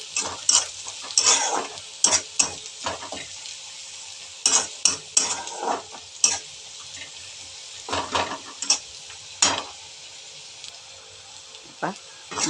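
Ginger and garlic frying with onions in a pan: a continuous sizzle through the clip with repeated close spatula scrapes and clatters at an uneven rhythm, and a voice speaking between the strokes.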